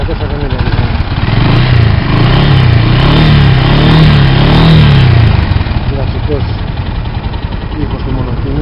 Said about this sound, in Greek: Ήχος του μονοκίνητρο